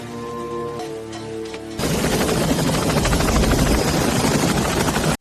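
A loud American military helicopter in the Vietnam War roars in after a quieter opening, its rotor chop and engine noise filling the rest of the clip steadily until an abrupt stop.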